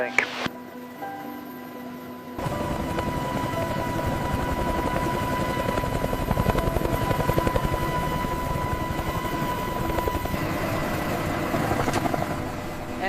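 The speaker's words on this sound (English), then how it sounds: "The Invincible Apache flies again!" An AH-64 Apache attack helicopter in flight, its rotor chopping loud and steady after a sudden start, holding a dense rhythmic thrum as it speeds and banks nearby.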